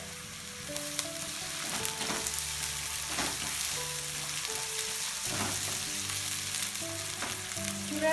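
Pre-boiled vegetables fry in a pan for vegetable macaroni, a loud continuous sizzle with occasional stirring scrapes, close and steady throughout, with quiet tones in the background and no talking.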